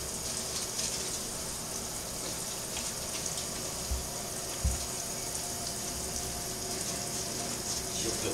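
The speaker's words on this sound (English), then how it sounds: "Coco's getting her shower." Steady water spray running through a dog shower while Coco is washed, a continuous broadband hiss at moderate level with a couple of small knocks and no talk over it.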